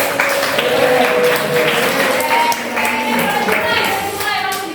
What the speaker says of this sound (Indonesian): Bapak boleh kita tepuk tangan buat Pak.